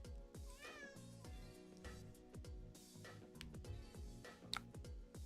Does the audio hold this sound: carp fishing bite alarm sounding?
no